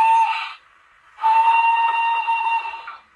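Two blasts of a steam whistle from a DCC sound decoder on a Hornby Centenary Smokey Joe model locomotive: a short toot, a pause, then a longer steady blast, loud and clear with no talk.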